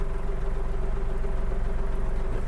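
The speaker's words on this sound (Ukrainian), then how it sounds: "Трактор заведений" The small engine of a Kubota GL-320 mini tractor idles steadily close by, a constant low droning hum with a faint mechanical whine and no speech.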